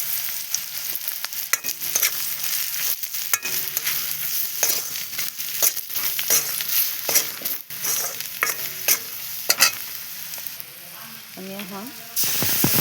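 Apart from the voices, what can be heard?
spices and chilli being stirred and fried for fish curry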